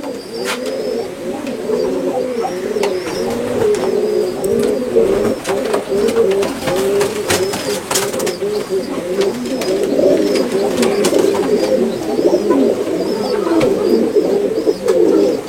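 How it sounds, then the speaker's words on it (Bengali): Nildumba high flyer pigeons coo close by in steady, overlapping rolling calls that go on throughout, with faint scattered clicks and rustles. "এই নীলদুম্বা কবুতর"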